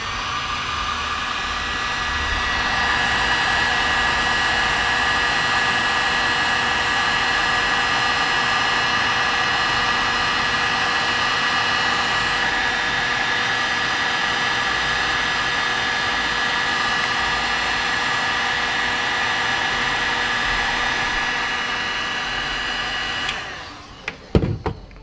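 Heat gun shrinking heat shrink wire connectors during a car stereo install in a 1996 vehicle, a steady loud blowing roar with a whining tone running for about twenty seconds before cutting off with a few clicks.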